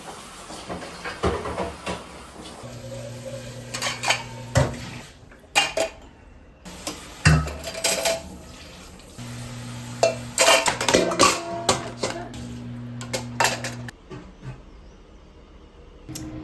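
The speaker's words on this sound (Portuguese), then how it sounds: "a panela da pipoca tá lá, então eu vou aproveitar pra lavar agora" A popcorn pot being washed in a kitchen sink: loud metallic clanks and scrapes of the pot and utensils, bursts of running water hissing, with irregular knocks and pauses throughout, close and clear.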